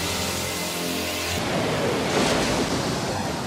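A giant water vortex jutsu from the Naruto anime surges in as a loud, rushing roar of churning water after a held musical tone, swelling and sustained to the end.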